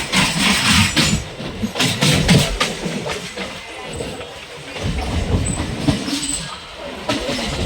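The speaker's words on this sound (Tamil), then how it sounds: "வில்லிவாக்கத்துலேருந்து ட்ரெயின் கிளம்பிடுச்சு." A Chennai MEMU passenger train rumbles and clatters as it pulls away from Villivakkam station, with rhythmic clicking of wheels on track and occasional high squeals, loud and close.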